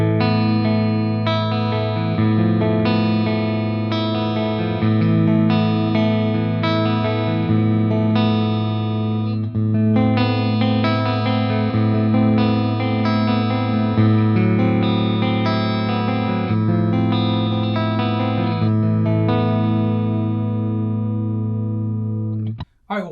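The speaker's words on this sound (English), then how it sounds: "It's amazing how such a high gain amp has such a good clean tone." Clean electric guitar through a SonicTone Loyalist Mark I three-channel high-gain tube amp, chorus-tinged sustained chords and picked notes ringing loud and steady for over twenty seconds before cutting off abruptly.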